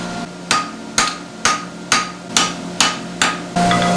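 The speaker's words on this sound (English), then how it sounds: "This is a hammer, my favorite hammer gun." Hammer striking hot steel while forging a horseshoe, seven evenly spaced sharp metallic blows about half a second apart, loud and close, with a ringing tone after the last strike.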